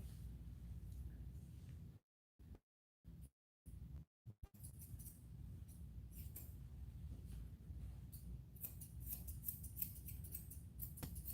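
Scissors trim a Goldendoodle's ear fur with quick, faint snips in short bursts, separated by brief silences, against a quiet background.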